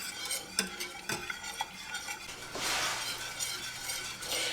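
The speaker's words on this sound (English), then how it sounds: "But the reason that you have to stir it is that it will stick and burn if you're not stirring it." A spoon works through thick, sugary coconut cream pie filling in a pot on the stove, scraping and knocking repeatedly against the sides with a rising bubbling hiss, heard close up without any talking.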